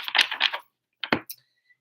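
Playing cards being shuffled, two short bursts of riffling and snapping separated by a brief pause, close and quiet.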